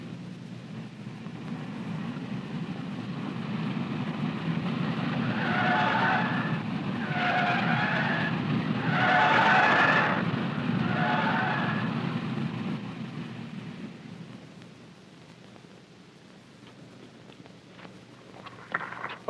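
A 1960s NASCAR stock car on nylon cord test tires laps the course at 60 to 70 mph. Its engine roar swells as it passes and fades away, with several squealing tire skids through the corners, heard on an old 16mm film soundtrack.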